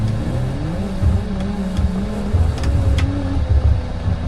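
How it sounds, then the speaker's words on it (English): A van's engine drives and revs steadily in a BeamNG driving game, with a loud, continuous drone that rises and falls, plus a few brief sharp ticks. "This car sounds amazing."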